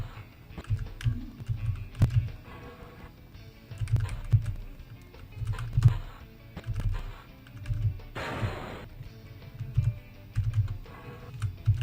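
Close computer keyboard typing during a Club Penguin game, with bursts of key presses and taps in an irregular rhythm, moderately loud and without talk.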